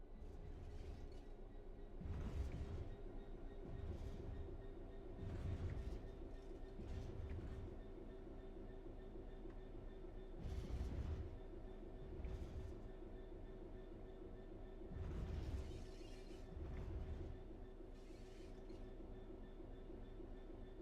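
A train coasting on level track in a train simulator game, with the locomotive's throttle closed: a steady low rumble of rolling wagons, broken by periodic rhythmic clatter swells from the wheels, heard alone without any talk.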